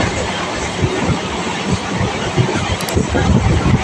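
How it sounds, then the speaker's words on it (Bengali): A Lakshmikantapur local train pulls out of Jaynagar Majilpur station, rumbling steadily close by with rhythmic wheel clatter and wind buffeting, loud and continuous. "লক্ষ্মীকান্তপুর লোকাল জয়নগর মজিলপুর স্টেশনে ছেড়ে দিয়ে বেরিয়ে গেল।"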